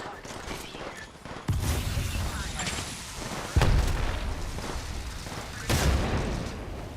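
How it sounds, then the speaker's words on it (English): A thermite grenade goes off in the video game Apex Legends Mobile: several deep booming bursts set off a sustained rumbling roar, loud and near, under a player's talk. "And throwing thermite grenade."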